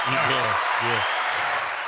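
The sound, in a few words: played crowd applause sound effect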